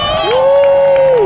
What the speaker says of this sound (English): Let's give a round of applause to the guys who are going to set off the fireworks for us tonight